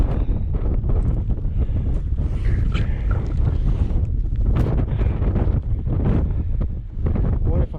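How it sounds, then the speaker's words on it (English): Strong gusting wind buffets the microphone high on the peak of Y Lliwedd, loud rumbling roars rising and falling in waves with brief lulls. "There's some wind up here, I tell you."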